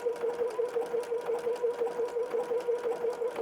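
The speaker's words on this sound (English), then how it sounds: "I'm just going to do a zigzag stitch all the way down that side again." A sewing machine runs a zigzag stitch down the edge of a seam on fabric for a small keychain tissue holder, its needle chattering in a fast, steady rhythm, close and alone with no talk.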